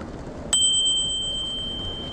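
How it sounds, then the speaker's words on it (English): A single loud ring of a bicycle bell on a Cube hybrid e-bike in Cardinham Woods, Cornwall, a bright metallic ding that rings out and slowly decays against quiet outdoor background noise. "Ring me loud bell here."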